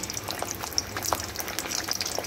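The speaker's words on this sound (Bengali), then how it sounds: "এবারে একে একে লুচিগুলোকে ভেজে নেব।" Luchi deep-fry in hot oil with a soft, bubbling crackle and scattered light pops, fairly quiet and continuous, with no voices.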